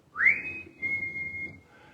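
A single clear whistle rises quickly, then holds a long steady high note for over a second, with faint low background noise beneath.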